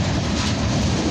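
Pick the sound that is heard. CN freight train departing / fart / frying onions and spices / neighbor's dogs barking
CN freight train departing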